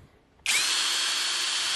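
A Parkside Performance PSBSAP 12 A1 cordless drill driver starts up abruptly and runs steadily at a slow, even whine, with a close, loud, continuous motor hum and no voices.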